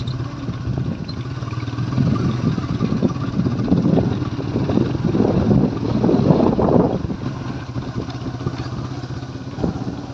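Strong wind roars steadily against the microphone on the bank of the Jamuna River, a low continuous rumble with surging gusts and a faint engine drone beneath.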